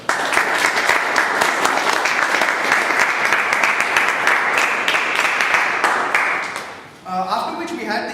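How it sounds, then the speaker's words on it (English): An audience gives a sustained round of applause, steady, dense clapping held for several seconds before fading away, after which a voice starts speaking. "Can we have a round of applause for that?"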